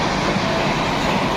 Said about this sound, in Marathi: मी आलोय भाईंदर स्टेशनला आणि विरार लोकल आहे